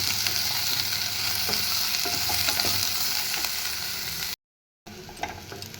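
Capsicum and onion stir-fry uncovered in a pan over a medium gas flame, a loud continuous sizzle with scraping stirs, cut by a brief silent gap before the frying resumes.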